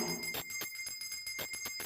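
A magic bell in a Hindi folk tale rings in a quick series of bright, clear strikes with a lingering metallic tone, heard alone and close.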